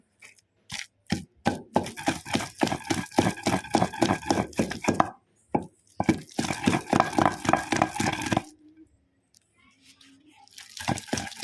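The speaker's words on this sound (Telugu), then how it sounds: "చింతపండు వేసి నూరుదాం ఇప్పుడు" Tamarind is pounded with a stone pestle in a stone mortar for bottle gourd chutney, sharp rhythmic knocks coming in quick runs separated by short pauses, close and clear with no talking.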